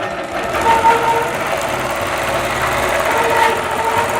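A sewing machine runs steadily through free-motion quilting of curved cross hatching, a continuous close mechanical hum carrying on without a break for the whole stretch.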